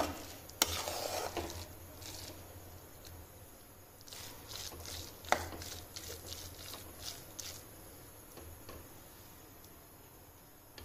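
Coconut wadi mixture stirred in a pan, a steady scraping and faint sizzle with occasional sharper clinks of the spoon against the metal, running on without talk.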